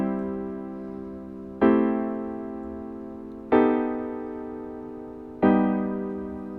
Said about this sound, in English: Piano, just like a little accent thing.